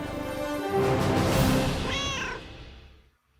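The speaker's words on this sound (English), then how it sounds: "Most importantly, you have cats now." A cat in the game Sea of Thieves meows, giving a drawn-out, wavering call followed by a shorter rising mew that fades into silence; it is close and clear.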